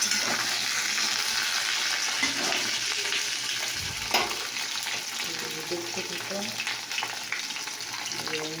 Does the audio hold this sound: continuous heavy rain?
no